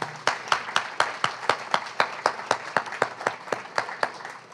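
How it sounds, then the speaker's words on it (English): Audience at a poetry reading claps in a sustained round of applause, a dense patter of many hands close by, running steadily for several seconds without talk. "We have one more big round of applause for Andy and for Susan."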